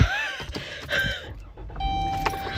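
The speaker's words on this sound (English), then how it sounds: "My car is loud." Cabin noise inside a car with the air conditioning being switched on, a steady loud interior rumble and whir with bursts of clatter and a rising tone near the end, no talk.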